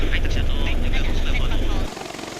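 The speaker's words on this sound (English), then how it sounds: "the sound of engines and blades is extremely loud" V-22 Osprey tiltrotor engines and rotor blades roar loudly and steadily at close range in flight, a dense constant drone that drops somewhat in level near the end.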